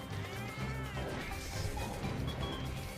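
A feline companion in Monster Hunter Freedom Unite meowing amid battle noise, a wavering cat cry over dense, loud in-game crashes and rumble.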